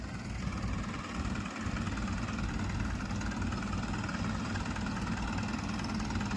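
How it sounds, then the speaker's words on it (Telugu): Engines of road construction machines at the new road works in Amaravati run continuously, a dense, loud, steady rumble with an even idling throb and no break or talk. "రెండు ఇంజిన్లతో అయితే ఈ పనులు అయితే చేస్తున్నారు."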